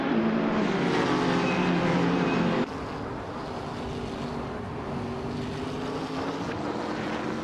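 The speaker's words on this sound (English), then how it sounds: "Zeroelia is driving a 2016 BMW M6 GT LM" Race car engines from a racing video game, with a 2016 BMW M6 GT LM among the field, drone steadily and loudly with harmonic whine throughout, shifting down in pitch partway as another car passes.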